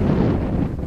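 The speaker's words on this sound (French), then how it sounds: "le vent souffle" Wind gusts across an exposed promontory, a loud, steady low buffeting rush against the microphone with no voices.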